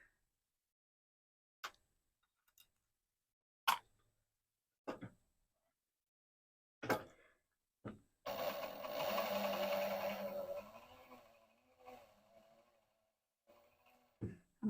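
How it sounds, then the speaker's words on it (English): Sewing machine stitching lace fabric for knickers: a few sharp isolated clicks and knocks, then a steady whirring run of stitching for a couple of seconds that slows and fades, followed by more scattered taps. "I'm just stitching up to that edge."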